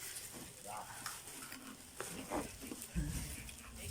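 Food frying and sizzling in a hot pan, likely a Thai-Lao mortar-pounded dish being cooked, with soft stirring scrapes and steady crackle throughout, heard up close at moderate level.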